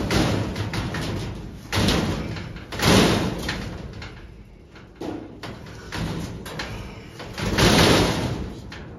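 A door is opened and slammed shut indoors, with several loud thuds and bangs close by and some room noise between them.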